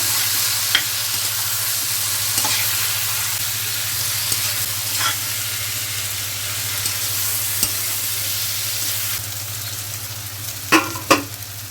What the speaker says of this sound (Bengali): কাশ্মীরি লঙ্কার গুঁড়ো ভালো করে কষে নিচ্ছি মশলাটা